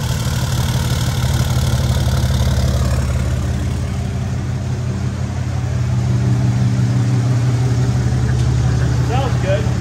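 A custom-built daily driver car's engine cranks and fires, then settles into a loud, steady rumbling idle close to the microphone, with no talk over it.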